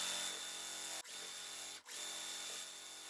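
A sewing machine stitches quilt fabric pieces together in a fast, steady motorized whir, stopping briefly twice between short runs, faint and with no talk.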